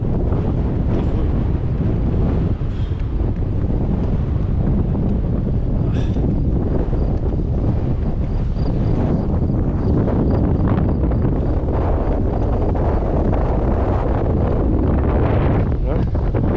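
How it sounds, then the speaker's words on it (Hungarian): Strong wind batters the microphone on an open lowland hiking trail near a river in eastern Hungary, a loud continuous low rumble and buffeting throughout, with brief faint voices over it. "Milyen szél lett."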